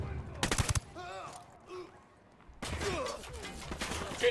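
Gunfire in the video game Ghost Recon Wildlands: a sharp loud burst of shots early on, then a quieter stretch with brief tones, followed by a sustained noisy barrage of rapid fire and impacts toward the end.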